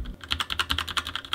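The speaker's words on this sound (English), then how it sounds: "So I got a cool gaming mechanical keyboard" Rapid, steady clicking of keys on a gaming mechanical keyboard, close and fairly loud, with a dozen or so crisp keystrokes in an even rhythm and no voices.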